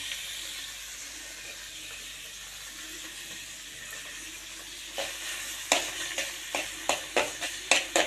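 Curry leaves, coriander and crushed garlic hit hot oil for a rasam tempering, starting as a steady low frying hiss, then a run of sharp spluttering crackles and pops in the last few seconds, close and fairly loud.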